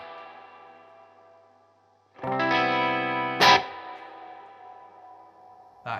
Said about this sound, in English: And this is with a lovely, washy, long reverb.